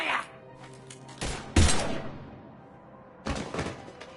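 Gunfire erupts in a few sharp, heavy bursts during a firefight in the video game Mass Effect 3, separated by brief lulls with low background ambience.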